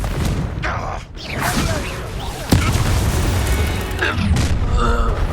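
Confringo fire spell blasts in the Hogwarts Legacy video game, a sharp booming impact near 2.5 seconds amid ongoing game combat noise, with further whooshing spell effects later.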